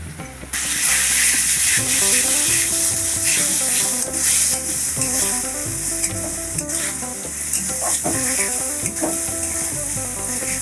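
Ground spices with salt, turmeric, cumin and Kashmiri chilli frying in oil for chicken malai curry; a loud, continuous crackling sizzle throughout, with steady stirring scrapes close by.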